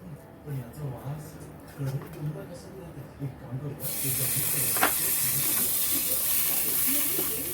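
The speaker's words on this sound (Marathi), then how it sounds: "पाव भाजून घेऊया थोडेसे आपण थोडासा भाजून घेऊया आपण" Pav bread buns toasting in a pan for homemade pizza burgers, a steady soft sizzle that rises and thickens midway, with someone talking over it in the first half.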